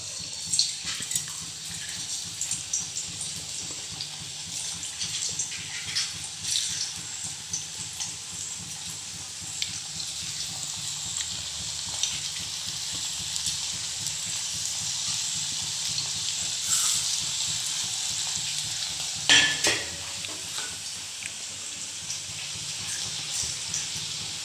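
Sliced tapioca (kappa) frying in hot oil at home, a continuous soft hiss and bubbling sizzle that holds steady throughout, with a few faint clinks and no talking.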